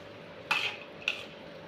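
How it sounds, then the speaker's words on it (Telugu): Boondi being mixed for laddu in a bowl, two brief metallic clinks of a spoon against the bowl about half a second apart, quiet and close, no talk. "ఇలా యాడ్ చేసుకున్న బూందీలని బాగా మిక్స్ చేసుకుంటున్నాను."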